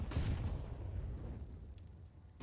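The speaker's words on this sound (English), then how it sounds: "that's a lovely nade towards middle by Shane." A grenade goes off toward the middle of a Counter-Strike map: one dull low boom at the start that fades into a quiet rumble.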